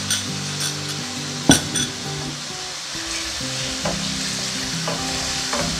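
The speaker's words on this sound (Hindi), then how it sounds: "चिकन को अच्छी तरीके से फ्राई कर लेंगे।" Small chicken pieces sizzle steadily in hot oil in a pan, with loud continuous frying hiss, occasional clinks of a utensil being stirred, close up and with no talk.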